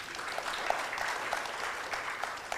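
An audience at an inaugural session celebrating an organisation's anniversary claps steadily, a soft, distant wash of applause with a few sharper individual claps standing out.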